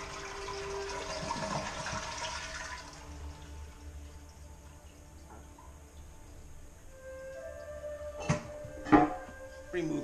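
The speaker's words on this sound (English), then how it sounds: "you want to flush your toilet fully out as much as you can, just hold it" Household toilet flushing with the handle held down during a fill valve replacement, a rushing water surge fading into trickling refill and gurgles, followed by a few sharp porcelain knocks and clunks near the end.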